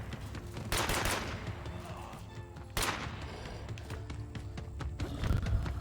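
Gunfire in the zombie survival game State of Decay 2 comes in bursts of rapid, sustained shots over a dense, noisy game soundscape, with two especially loud blasts standing out.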